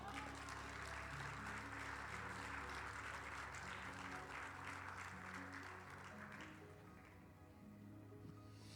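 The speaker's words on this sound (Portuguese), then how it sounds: "Glória a Deus, bata palmas." A church congregation claps along with loud music in the background, a steady wash of hand claps blending with sustained instrumental tones that thin out toward the end.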